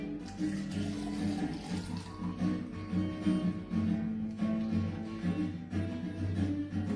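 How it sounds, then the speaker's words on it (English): A cocktail, part of an elderflower orange or Painkiller mix, is poured into a glass, giving a steady liquid trickle and splash that runs for several seconds over faint background noise, with no talk. "That is a perfect pour."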